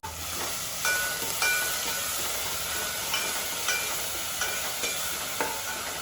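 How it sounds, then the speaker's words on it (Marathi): Garlic and ground green chili fry in a pan, giving a steady close sizzle with occasional light scraping taps from stirring, and no talking. "यात मी लसूण घालते आहे हे जे वाटून घेतलेली हिरवी मिरची आहे ती घालते"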